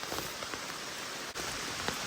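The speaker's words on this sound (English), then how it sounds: "It's freaking thunderstorming again." Steady rain pattering on a tarp during a thunderstorm at a hammock campsite, a dense continuous hiss with scattered drop impacts, close and fairly loud, with no voices.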